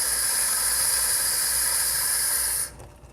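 Steam pressure vents from the top of a La Pavoni Pro lever espresso machine as one loud, steady hiss that runs for over two seconds and then cuts off abruptly, leaving near silence.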